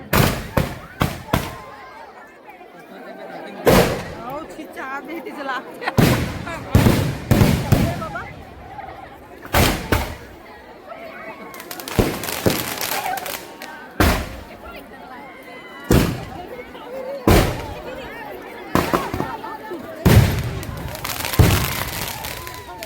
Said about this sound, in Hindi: बहुत ही सुंदर आतिशबाजी आप सबको देखने को मिल रहा है